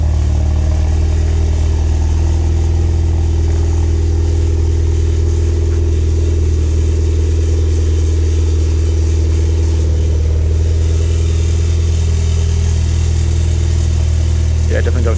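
Audi RS3 engine idling steadily after a cold start, a loud low continuous drone with a faint metallic rattle from a loose engine bay heat shield, close by, with voices talking over it.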